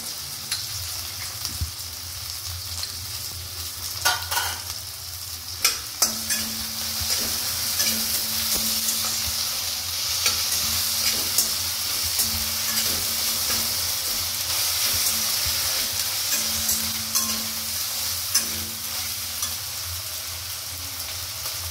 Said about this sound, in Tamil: இஞ்சி பூண்டு பேஸ்ட் ஒரு ஸ்பூன் சேர்க்குறேன்.